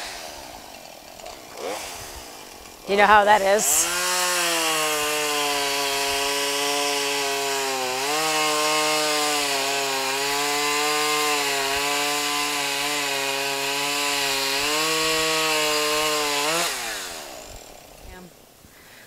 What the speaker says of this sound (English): Okay, finally got the chainsaw going.